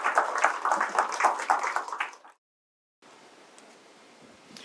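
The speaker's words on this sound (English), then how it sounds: "Let's give another round of applause for our speaker" Audience applause for a guest speaker at the end of a university lecture on state space models and transformers. Dense clapping fills the first two seconds, then cuts off, leaving only faint room hiss.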